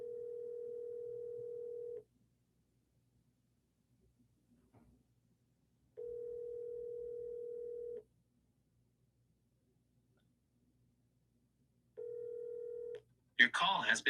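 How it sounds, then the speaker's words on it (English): A telephone line sounds a steady tone in three two-second bursts separated by silent gaps, like a ringback pattern heard up close, and a short burst of speech follows at the end. "I'm double dialing her."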